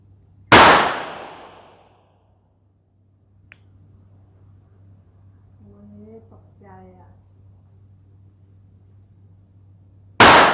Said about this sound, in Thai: เดี๋ยวทดสอบยิงก่อนว่า เป็นยังไงบ้าง ระยะ 10 เมตรนะ สองนัดนะพี่น้อง